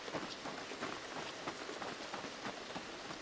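Steady rain falling on surfaces in the horror video game Devour, a dense even hiss of many drops heard alone at a moderate level throughout.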